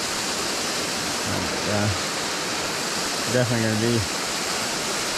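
A small waterfall on a tiny trout creek gives a steady, broadband rush of falling water throughout, with a voice briefly speaking over it twice.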